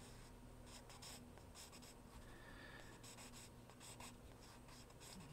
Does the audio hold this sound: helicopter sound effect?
no